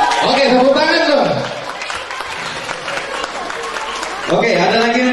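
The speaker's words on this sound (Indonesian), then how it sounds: "Tepuk tangan dong." Audience clapping at a student event erupts loud and sustained, dips briefly in the middle with voices mixed in, then swells again toward the end.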